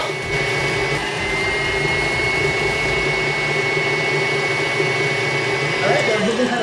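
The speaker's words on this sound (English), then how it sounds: "we're gonna continue to beat this on high speed for about 5 minutes until the egg whites are shiny, white, and stiff" An electric mixer beats egg whites on high speed, giving a loud, steady whirring drone that holds unbroken from start to finish, with no clear talk over it.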